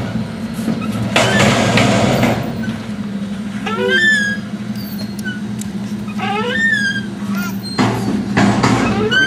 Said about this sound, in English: Hear the trash truck?